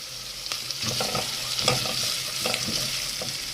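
Okra sautés in a pan with garlic and onion, giving a steady close sizzle broken by scraping stirs and clatter from a utensil, with no talking.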